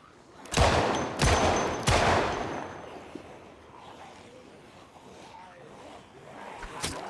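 Three loud gunshots fire in quick succession in a video game, each a sharp crack with a ringing tail, followed by a quieter stretch and one more shot near the end.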